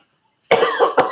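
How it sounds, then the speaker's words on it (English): A single sharp cough from a lingering COVID infection, close and loud, with a short second burst right after, following a brief silence. "I still got a cough from COVID."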